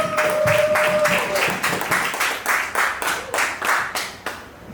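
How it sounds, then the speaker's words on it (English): An audience at a comedy club claps for a comedian being introduced. The applause is scattered and moderately close, with distinct hand claps that thin out toward the end. "Please give a big round of applause for Mr. Matthew"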